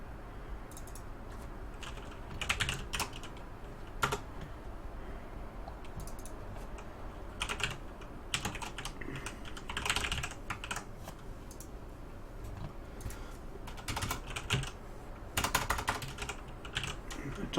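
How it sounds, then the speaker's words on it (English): Keys clack on a computer keyboard during live coding, quiet bursts of rapid clicks separated by short pauses, close and soft against a low room hum. "I told you I was going to make some typos due to this keyboard."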